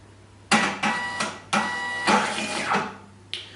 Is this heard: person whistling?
no